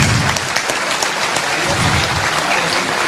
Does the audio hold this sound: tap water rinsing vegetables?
no